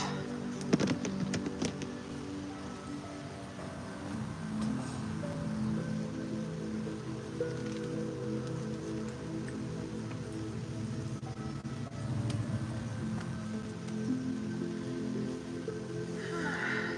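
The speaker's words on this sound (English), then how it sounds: "It's raining, honey." Rain falls outdoors as a steady, soft patter across the whole stretch, with a few brief knocks and rustles near the start and a low, even wash of sound throughout.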